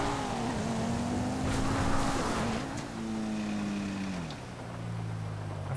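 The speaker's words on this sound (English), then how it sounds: "Hear that coquette behind." Sports car engine from a Coquette racing behind in GTA 5, a steady droning tone that holds and then drops in pitch as it eases off, continuous and fairly close with no talk.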